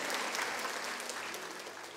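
A church congregation applauds during a Sunday sermon, a dense, steady wash of clapping from many hands that fills the space and fades slightly toward the end.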